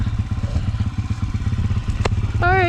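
A dirt bike engine chugs in a steady, close, low pulsing rhythm during riding, with a brief sharp click and a rising voice-like whine near the end.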